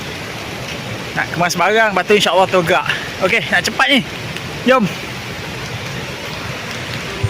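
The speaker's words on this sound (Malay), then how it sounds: "Hujan pula, hujan renyai" Light drizzle falls over a riverside campsite at Batang Kali, a soft, continuous hiss of rain running under a man's nearby speech and carrying on alone once he stops.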